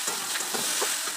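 Papaya curry is sautéed in a pan with a loud, continuous close sizzle and several soft scraping stirs of a spoon, and nobody talks.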